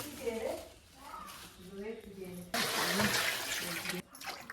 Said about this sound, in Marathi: सगळ्यात आधी आता आंबे धुवून घ्यायचे